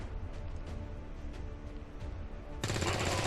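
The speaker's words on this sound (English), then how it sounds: "You can see this trooper fire." A trooper's gun fires in XCOM 2, a loud, dense burst of automatic gunfire that cuts in suddenly near the end after a stretch of steady in-game background noise.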